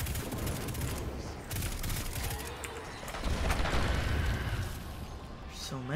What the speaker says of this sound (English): Oh, they have scorch cannons.